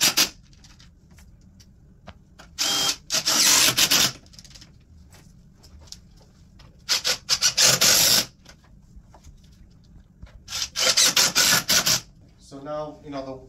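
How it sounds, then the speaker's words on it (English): Power drill driving screws or nails into a metal post connector, heard as several separate bursts of loud whirring, each a second or two long, with quieter pauses between them. "then you install your screws or your nails"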